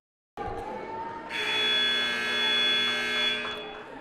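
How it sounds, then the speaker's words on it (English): Basketball game buzzer at a women's college game, a long steady electronic buzz that swells and holds for a few seconds over a low hum in the gym. "That's the sound of the fourth quarter starting"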